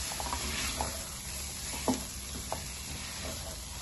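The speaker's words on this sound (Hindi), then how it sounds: "अभी दाल को अच्छी तरह हम इसमें भून लेंगे" Boiled lentils fry in a pan with a soft, continuous sizzle and a few light stirring knocks, fairly faint and steady.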